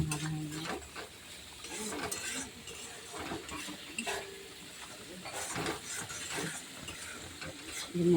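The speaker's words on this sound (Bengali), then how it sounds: "মশলাটা ভাজা হয়ে গেল।" Spice paste frying in oil in a pan, a soft continuous sizzle with stirring scrapes and utensil clinks, close but fairly quiet, with a brief voice murmuring at times.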